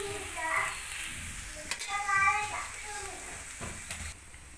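An egg frying in a pan over a medium flame gives a soft, steady sizzle throughout, with a voice and other talk heard over it.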